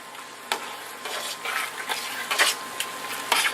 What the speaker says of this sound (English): we're still cooking our sausage, and we are breaking it up